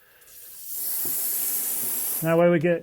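Water sprays straight into a plant pot while tomatoes are transplanted, a steady close hiss of about a second and a half, followed by someone speaking.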